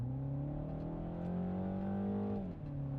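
2025 MINI Cooper S with its 2-liter engine under acceleration, heard from inside: a steady, rising engine drone that climbs in pitch, dips briefly as it shifts, then pulls on again.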